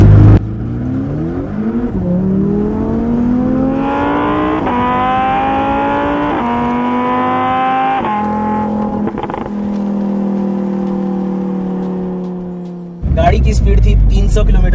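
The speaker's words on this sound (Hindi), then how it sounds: "अगर मैं फुल स्पीड में गाड़ी चलाऊं तो क्या आवाज आएगी" A rented car driven at full speed in Dubai, its engine revving up through several gears in rising sweeps, loud and close, with a brief burst of louder noise at the end.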